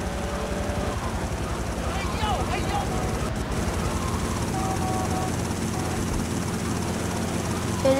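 Helicopter in the video game GTA Vice City, a steady rhythmic rotor chop and engine drone held throughout at constant loudness, with a brief game sound cutting in briefly partway through.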